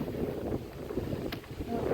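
Steady, slightly cool wind rushes and buffets outdoors in north-east England, with gusty low rumble and microphone wind noise throughout, no voices.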